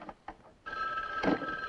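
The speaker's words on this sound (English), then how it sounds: "It's the phone, not the alarm." A telephone rings in a quiet room late at night, a steady bright electronic ring starting partway through after a few faint sounds, loud and close, with no talk.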